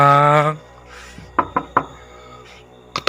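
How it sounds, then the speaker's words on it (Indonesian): Knocking on a door: a few sharp raps in quick succession, a pause, then more knocks near the end, following a brief tonal sound at the start over a quiet background. "Ketukan itu kembali terdengar."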